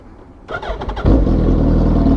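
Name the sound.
Suzuki Hayabusa motorcycle engine starting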